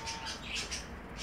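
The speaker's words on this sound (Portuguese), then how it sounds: "Aqui eu tenho um casal de pombo rabo de leque." A pair of fantail pigeons kept on a rooftop slab coo and call in a few soft, repeated bursts over a steady background hum, close by.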